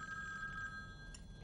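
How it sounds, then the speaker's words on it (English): A telephone rings faintly in the background, a steady electronic trill that fills the brief moment without any talking. "Dad, do you want to get the phone?"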